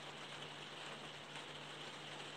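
Rain falling outdoors, heard indoors as a very faint, steady hiss with a low constant hum beneath, with no voices over it.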